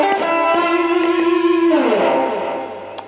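A short electric guitar blues lick through an effects unit with light distortion, a few quick notes settling into a long held tone that fades out; close and solo, with no voice.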